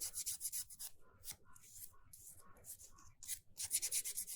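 Alabaster star pendant rubbed with 240-grit sandpaper, giving close, scratchy, rasping strokes in a steady back-and-forth rhythm with brief pauses between passes.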